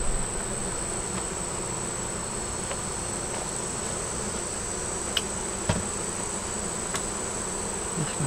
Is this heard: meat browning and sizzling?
no